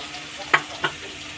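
Poppy seeds fry in a pan with a soft, steady sizzle, broken by two sharp scraping stirs close by.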